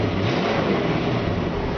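1967 Ford Mustang with a 289 V8 and single exhaust revving, a steady, dense engine roar close by with no talk.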